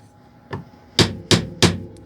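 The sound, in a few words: tapping a folding knife to test lockup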